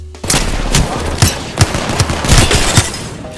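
Rapid bursts of PK machine-gun fire in Apex Legends, loud and close, with sharp repeated shots in uneven volleys over a steady rattle.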